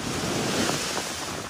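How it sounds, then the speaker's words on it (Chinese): Typhoon-force wind with heavy rain lashes a coastal wind farm in Qinzhou, Guangxi, a loud, continuous roar of gusts buffeting the microphone without talk. "现场有大到暴雨，摄像头也被大风吹得产生抖动"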